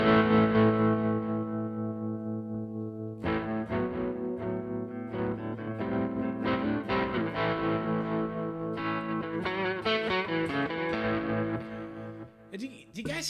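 Electric guitar played through a NUX MG-30 amp modeler on its Sunset preset: a long ringing chord, then a busy run of distorted, effects-laden strummed and picked phrases, loud and steady, with no talking.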